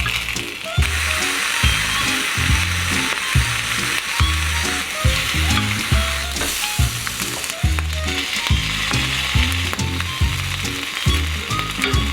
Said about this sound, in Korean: 이제 여기서 약불에 살살 달래주면서 굽기만 하면 됩니다